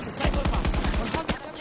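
An unmounted machine gun in Battlefield 2042 rattles off a loud, close, rapid burst of shots with thumping low punches, tapering into a few scattered reports near the end.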